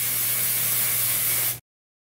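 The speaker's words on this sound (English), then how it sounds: "I'm going to go ahead and spray it on this Real Techniques foundation brush" Spray foundation makeup hisses onto a foundation brush in a continuous spray lasting about a second and a half, close and steady, then cutting off abruptly into silence.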